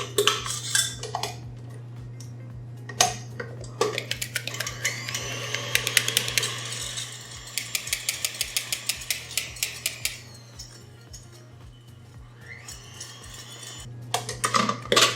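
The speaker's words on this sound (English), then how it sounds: "I'm going to start to beat my egg white and adding progressively the sugar" Egg whites being beaten with sugar into a soft-peak meringue, a steady close mechanical whisk whirring under rapid metallic rattling and clinking against the bowl, with pauses and restarts.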